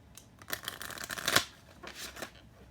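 Tarot cards shuffled by hand in quick riffling bursts, close and clear, with brief pauses between the flurries and no voices.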